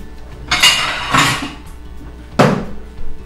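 Breaded egg potato balls are set down on a plate in three distinct clattering knocks, close and fairly loud, with a softer clink at the end and no talk.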